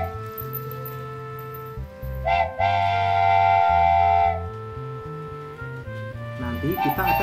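A miniature model train departs with a sustained whistle blast lasting about two seconds, over steady background music with a humming undertone.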